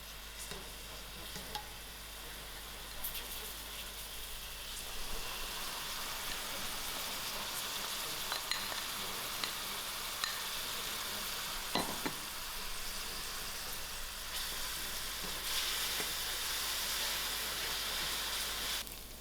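Onions frying in a quarter cup of oil over moderate heat on a stove, a steady close sizzle running throughout with occasional stirring clicks for curry.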